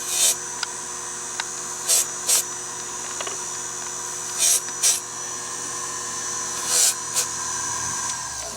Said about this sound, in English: what I do is I'll use the fiber wheel and just hit those edges very lightly with the fiber wheel